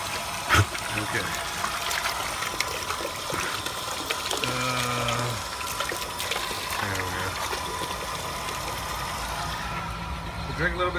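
Water runs steadily from a hose into a container, with an engine idling nearby and a few brief knocks.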